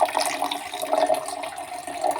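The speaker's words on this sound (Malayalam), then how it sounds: "ആവശ്യത്തിനുള്ള വെള്ളം കൂടി ആഡ് ചെയ്ത് കൊടുക്കുകയാണ്" Water is poured into a jelly drink mixture in a short, close, continuous splashing stream with no talking.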